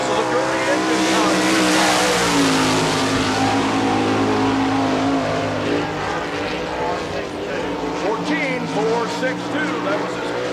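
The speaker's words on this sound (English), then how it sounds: "This is a Gurney engine car." A Gurney-engined sprint car races on the dirt oval at Barberville, Florida, during an All Star Circuit of Champions Speedweek event. Its loud engine roars steadily for the whole stretch, close by, with a voice talking underneath.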